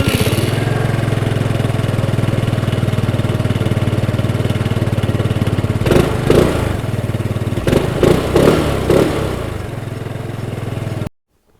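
A 2021 Kymco Agility City 125 scooter idles with a steady close engine drone, then revs in several bursts as it rides off before the sound cuts out abruptly.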